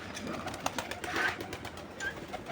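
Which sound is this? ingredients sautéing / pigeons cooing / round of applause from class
pigeons cooing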